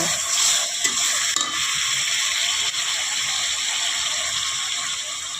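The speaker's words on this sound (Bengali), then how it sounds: "এখন আমি কেটে রাখা কাঁঠালটা দিয়ে দিব" Cut jackfruit goes into a pan of oil-glossed, well-fried spices, setting off a steady, loud sizzle with faint stirring scrapes throughout, no voices.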